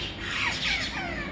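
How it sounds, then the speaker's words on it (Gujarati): A flock of parrots gathered around a house squawks in a brief, harsh, raspy burst that is close and fairly loud. "અહીંયા જોઈ શકો છો આજ તો ઘણા બધા પોપટ આવી ગયા છે."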